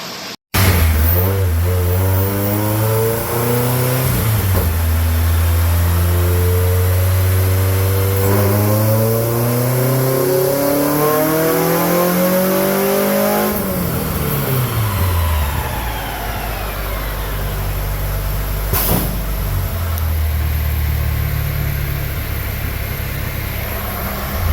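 2.4-swapped Dodge Neon with upgraded intake manifold, long-tube headers and exhaust making a nitrous dyno pull, a loud sustained engine wail sweeping steadily up in pitch, then dropping off and settling into a rough idle.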